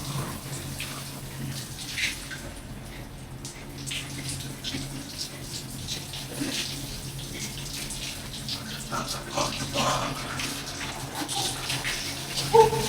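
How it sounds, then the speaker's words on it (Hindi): Cold water pouring steadily from a gym shower, a continuous broadband hiss and splash with low rumble, fairly close, with brief faint voice sounds. "अब जैसे ठंडा पानी आया है इसके अंदर"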